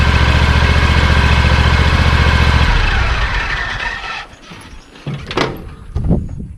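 A small gasoline lawn mower engine runs after routine maintenance, a steady loud rumbling idle for a few seconds before it cuts out, followed by scattered handling clatter and knocks.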